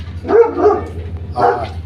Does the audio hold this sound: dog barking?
yes